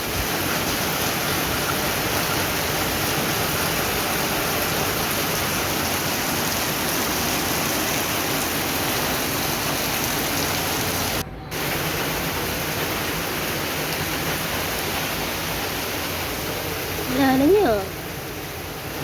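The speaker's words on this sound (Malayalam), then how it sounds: "ഇവിടെ ഭയങ്കര മഴയാണ്" Heavy morning rain falls in a steady, dense hiss that fills the whole stretch, with a brief voice-like sound near the end.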